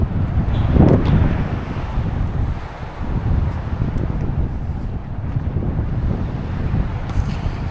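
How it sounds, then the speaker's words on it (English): Steady low wind rumble buffets the microphone throughout beside the border wall in Ciudad Juárez, with a gust swelling briefly near the start; no voices. "It's getting kind of windy."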